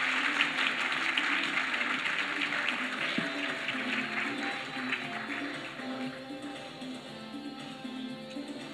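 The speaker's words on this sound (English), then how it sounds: "please give a warm round of applause to welcome Mi-King Xiao, Vice President of the Republic of China, Taiwan, onto the stage" Sustained audience applause welcomes the Vice President of Taiwan onto the stage at the APrIGF and TWIGF 2024 forum in Taipei, a dense, steady clapping from a large room that fades slightly toward the end.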